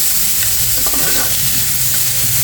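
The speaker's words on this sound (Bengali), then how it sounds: "এটা আমি সুন্দর করে ভেজে নেব" Cooked rice frying in a pan of oil for a Bengali bhorta, giving a steady close sizzle with scraping stirs of the spatula throughout, and no voices.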